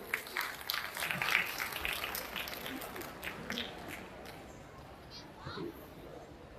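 Loud crowd applause and clapping fill an outdoor Sambalpuri Day stage event honoring a late freedom fighter, a dense steady roar that fades gradually, with children's voices mixed in.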